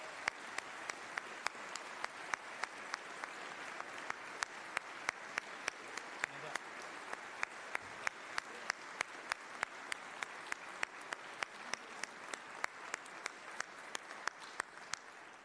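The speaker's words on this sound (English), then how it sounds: "Let's give them a round of applause for their service." Applause for former Tennessee House speakers at the opening session of the 111th General Assembly: steady, fairly distant clapping across a chamber with sharp individual claps standing out, fairly quiet throughout.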